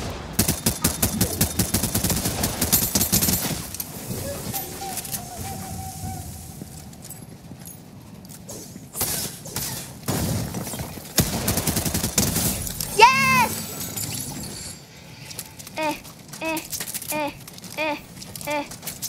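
Rapid bursts of automatic gunfire ring out in the video game Fortnite, some loud and close and others fainter, mixed with game effects and a player talking excitedly over the action.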